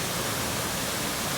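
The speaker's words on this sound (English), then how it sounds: "and a lovely waterfall. Just listen to that." A waterfall on a stream running down toward Thirlmere reservoir in the Lake District pours out a loud, constant hissing roar, close by and uninterrupted, with no one speaking.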